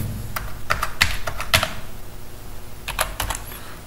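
Fingers type on a computer keyboard while someone fills in a transit visa application, with irregular clusters of close, crisp keystrokes separated by a short pause.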